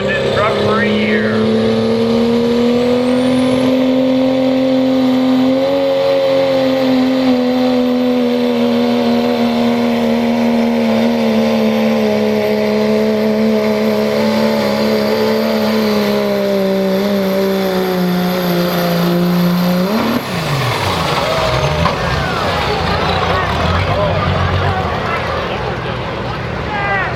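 A loud diesel engine in a 1996 Dodge pro mod 4x4 pickup roars steadily at high revs for a long drag race pull, then drops off abruptly, with commentary talk running over it.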